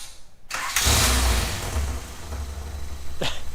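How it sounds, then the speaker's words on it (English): A 1995 Honda Civic Si cranks and fires at close range, catching into a loud, rough idle with a leaky exhaust, then a brief rising squeal near the end. "It starts right up."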